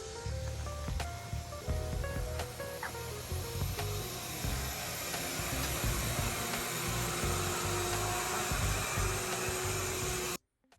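A vacuum cleaner runs steadily during car detailing, a loud continuous whine and rush close by with some knocks and scrapes as the nozzle moves around, before the motor cuts off abruptly at the end.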